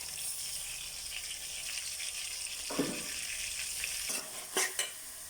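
Tomato, ginger and garlic paste sautés in a pan, a low sizzle with a few scraping stirs and clinks near the end.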